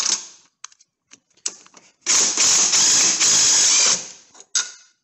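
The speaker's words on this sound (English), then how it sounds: "So we'll go ahead and remove these three bolts." A ratchet works the bolts loose from a Range Rover L322 air strut: several short ratcheting bursts up close, then a long, loud continuous run of rapid clicking lasting about two seconds, followed by another short burst.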